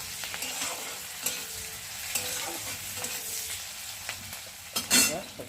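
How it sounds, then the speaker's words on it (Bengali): Vegetables sizzle and fry in a pan while a spoon stirs them, giving soft scraping strokes and occasional clinks over a steady low crackle, close and moderately quiet. "তার সবজিটা একটু নেড়ে দেবে। যাতে সব সাথে মিশে যায়।"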